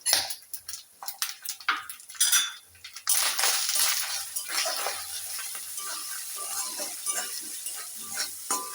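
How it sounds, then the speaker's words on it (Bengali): Spices being stir-fried (kosha) in a pan with a spoon: scraping stirs and clinks at first, then a steady loud sizzle under continued spoon scraping, with no talk. "সব মশলা কষানো হয়ে গেছে।"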